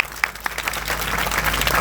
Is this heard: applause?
yes